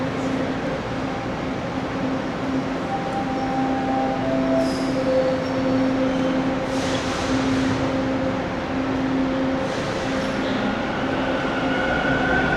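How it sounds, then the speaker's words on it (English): A Toronto subway Line 2 westbound train rumbles steadily on its rails in a tunnel, with sustained tonal whines and brief metallic squeals over the continuous roar. "I'm going to hop on a line 2 westbound train"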